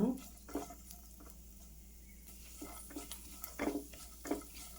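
Almonds roast in a pan for caramel kheer, giving a faint scraping stir and a light sizzle with soft intermittent clicks of the spoon against the pan.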